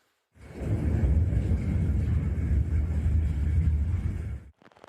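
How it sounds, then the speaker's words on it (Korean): A deep, sustained rolling rumble of thunder during a heavy rainstorm in Chuncheon, South Korea, loud and continuous for several seconds before fading out abruptly. "구름이 희뿌옇게 번쩍이더니 천둥 소리가 울립니다."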